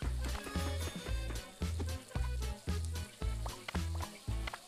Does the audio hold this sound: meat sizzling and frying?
yes